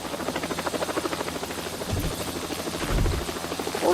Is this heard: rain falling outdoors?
no